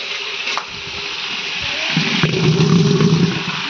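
Potatoes go into a hot pan of fat and sizzle up loudly, the frying hiss swelling and crackling with a few clatters of stirring, with no talk.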